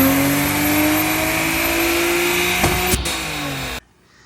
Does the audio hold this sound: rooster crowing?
no